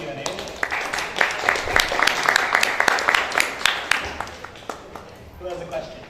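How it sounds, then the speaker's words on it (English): Scattered clapping from a meetup audience after a talk on building blockchain infrastructure, a steady patter of hands that thins out and fades near the end, with some voices mixed in. "A quick round of applause, and then we'll open it up to Q&A."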